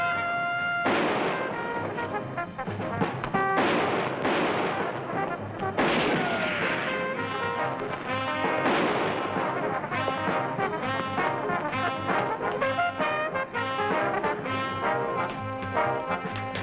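Gunfire in a TV crime drama comes as several loud sharp shots over a dense, dramatic orchestral score that fills the whole stretch.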